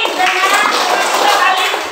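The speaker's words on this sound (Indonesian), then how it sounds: "Tepuk tangan untuk teman kita Ali." A classroom of pupils applauding a classmate: dense, steady clapping throughout, with children's voices mixed in.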